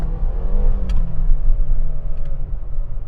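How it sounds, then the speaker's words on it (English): A Mercedes-Benz GLB 250 compact SUV with 221 horsepower accelerates, a loud steady low engine rumble from inside the cabin, with a couple of faint ticks. "It's not bad acceleration."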